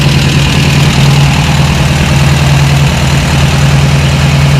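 A rebuilt VW buggy engine idles steadily while warming up, a loud, close, even rumble with a constant low hum that holds unbroken throughout.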